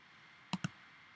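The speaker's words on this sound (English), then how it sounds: "I can click outside of the box, and I can hit Command or Control E" Two quick, sharp clicks land close together against a quiet background, like a computer mouse click followed by a keystroke.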